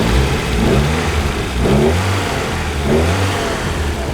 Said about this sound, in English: Yeah, engines sound smooth.